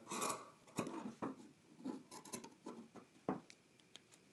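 Scissors trim excess fabric while sewing a Simplicity 9463 pattern, making a quiet run of close, soft snips and rasping cuts at an irregular pace, with no talking.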